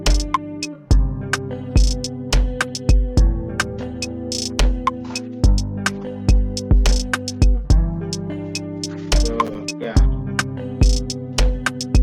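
Afro-style beat built in FL Studio, with a steady punchy kick pattern, pulsing bass and a plucked melody repeating over about twelve seconds, rhythmic and full, with no voices.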